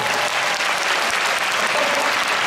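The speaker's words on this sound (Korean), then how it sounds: "그럼 박수 한번 부탁드립니다." Loud, sustained applause from a large audience at a concert in Olympic Hall marking the Korean Navy's 76th anniversary: a thick, even roar of clapping that holds steady throughout with no pauses.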